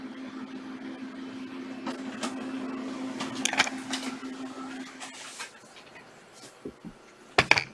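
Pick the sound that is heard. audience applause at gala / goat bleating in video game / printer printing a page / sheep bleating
printer printing a page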